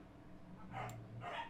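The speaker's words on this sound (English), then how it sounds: "They're trapped in a living room barking at each other" Two dogs, shut in a living room, give a couple of short, muffled barks in another room, quiet and distant with a low hum underneath.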